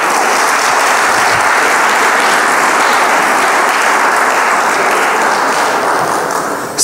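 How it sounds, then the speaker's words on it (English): Loud, steady audience applause at a Rotary event, a dense wash of many hands clapping together from start to finish without voices. "Friends, let's give one round of applause to Sandeep."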